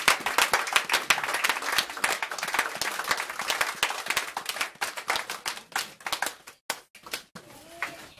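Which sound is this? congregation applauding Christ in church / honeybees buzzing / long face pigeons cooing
congregation applauding Christ in church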